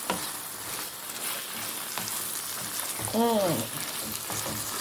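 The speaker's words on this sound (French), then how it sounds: "je vais rajouter de l'eau et laisser cuire tranquillement" Diced potatoes with added water bubble and sizzle in a pan, a steady close frying hiss with light stirring scrapes, and a short voiced sound rises briefly over it partway through.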